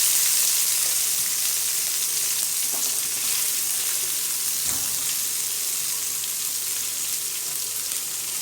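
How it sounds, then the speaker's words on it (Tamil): Onions sauté in hot oil in a pan for chana kulambu, a South Indian chickpea curry, making a constant close hiss and sizzle with faint crackles and an occasional stirring scrape. "அதில் வெங்காயத்தையும் போட்டு நல்லா வதக்கிங்க"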